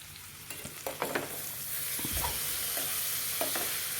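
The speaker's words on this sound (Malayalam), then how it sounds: "നന്നായിട്ട് ഇളക്കി കൊടുക്കാം." Chutney ingredients being stirred in a hot pan, with repeated scraping strokes over a steady sizzle that lasts the whole time.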